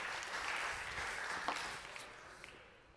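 An audience applauds at the close of a tech talk on AI and machine learning deployment, a steady wash of clapping that swells briefly and then thins and fades over a few seconds, fairly faint and distant.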